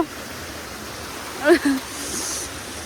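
Steady rushing of a flowing stream fills the background, with a brief voice sounding over it midway.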